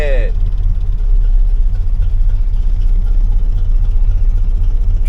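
A 1985 Chevrolet Silverado K20 truck engine idles close by with a steady, loud low rumble throughout, and a voice is briefly heard at the start.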